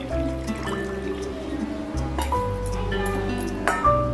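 Tamarind water and tomato water are poured into a pot for rasam, a steady liquid pour with a few light clinks of a vessel, under a low background hum.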